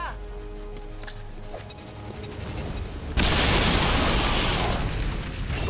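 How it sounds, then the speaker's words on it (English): A grenade explosion in the XCOM video game: a sudden loud, broadband blast erupts about halfway through and sustains as a roaring rumble over steady game background sounds. "I just hit that with a grenade and then it blew up."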